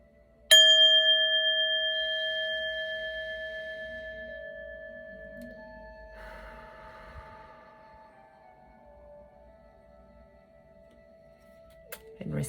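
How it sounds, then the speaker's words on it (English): A single bell struck once rings out with a clear sustained tone that slowly decays over several seconds, followed by a faint second tap near the end. "let's ring this bell and get into your October read"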